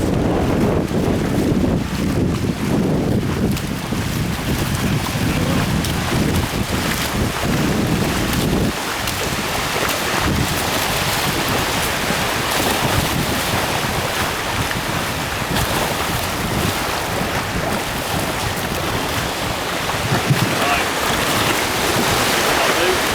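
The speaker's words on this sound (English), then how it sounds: "We're in the sea." Sea waves surge and wind buffets the microphone around a boat with a modified experimental hull out at sea, a steady, loud wash of water and gusts throughout with no clear talk.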